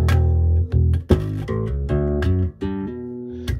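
A Squier P bass fitted with a new bridge plays a run of distinct, full low notes with clear attacks and ringing sustain, loud and close with no talking.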